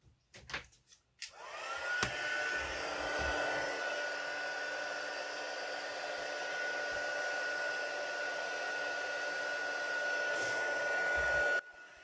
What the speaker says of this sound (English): let's get that heat tool out